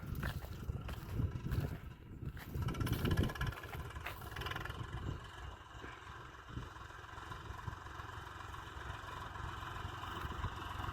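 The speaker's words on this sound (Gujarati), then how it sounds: "જો હાલ્યું આવે ટ્રેક્ટર આપણું." A low, rumbling tractor engine runs continuously, chugging steadily at a moderate distance as it approaches, slightly louder early on and then holding an even drone.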